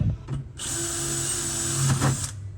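A power drill whirs continuously at high speed for a couple of seconds, close by, drilling aircraft door parts, with a brief rev at the start and a slight dip near the end.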